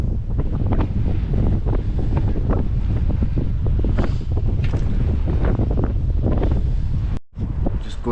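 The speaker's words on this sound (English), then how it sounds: "But it's certainly windy here." Strong wind buffets the microphone on a road bike during a long training ride, a constant loud rumbling roar with gusty fluctuations and a brief dropout near the end.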